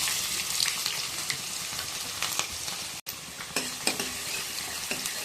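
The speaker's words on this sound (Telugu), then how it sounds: "అలాగే పచ్చిమిర్చి చీరి పెట్టుకున్న పచ్చిమిర్చి, ఆనియన్స్, కల్లెమాకు యాడ్ చేస్తున్నాం." Green chillies, sliced onions and curry leaves sizzle loudly in hot oil for a dry fish curry, a dense continuous crackle with occasional utensil stirring clinks, close up and without talk.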